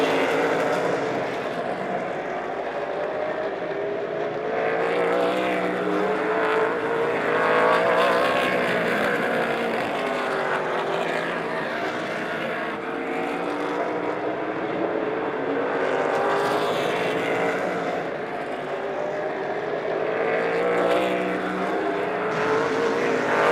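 Race cars lapping the Lebanon I-44 Speedway oval during a Faster Pastor memorial race, a continuous loud engine roar that swells and fades as the pack circles, with no break in the noise.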